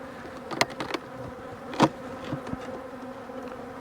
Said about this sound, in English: there's bees in there at least